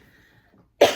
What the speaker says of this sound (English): I just have this chronic cough